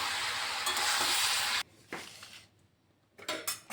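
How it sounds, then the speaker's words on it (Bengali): Mixed winter vegetables fry in a pan with a loud, steady sizzle, then drop to a quieter hiss broken by a few close scraping stirs of a spatula. "এই যে এভাবে ভালোভাবে একটু নেড়ে চেড়ে নামিয়ে দিচ্ছি।"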